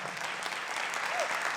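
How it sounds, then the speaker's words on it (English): Audience applause fills a council committee hearing on public safety, a steady, even clapping from a seated crowd that holds at a moderate level throughout. "let's give them a round of applause"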